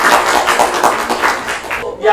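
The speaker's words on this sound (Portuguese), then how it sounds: "Mais uma vez, uma salva de palmas para o nosso grupo." An audience claps for a group at the close of a school interdisciplinary presentation: dense, steady applause filling the room for nearly two seconds, then cutting off abruptly.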